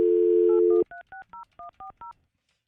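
A telephone dial tone cuts off, then a rapid run of about seven crisp keypad beeps sounds as a cell phone number is dialed, each short tone evenly spaced, clear and alone before falling silent.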